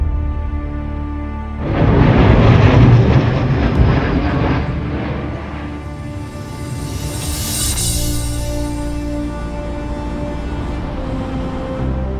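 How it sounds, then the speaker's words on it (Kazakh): A military aircraft flies past at the MCAS Miramar Air Show 2025 in San Diego, its engine roar swelling suddenly to a loud peak, then easing into a sustained rumble and a higher whine as it moves away. "Бүгінгі жоспарда бізде самолеттерді көреміз, ұшақтарды көреміз, военный самолеттерді көреміз"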